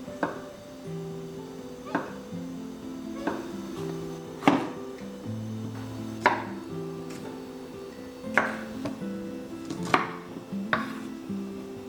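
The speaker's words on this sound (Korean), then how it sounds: "먹기 좋은 한입 크기로 재료들을 손질해 주시고요." Knife chopping vegetables into bite-sized pieces on a cutting board, sharp single chops spaced about every one to two seconds, with a low steady hum in the background and no talk.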